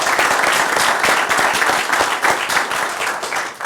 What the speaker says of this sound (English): So if you can give him a round of applause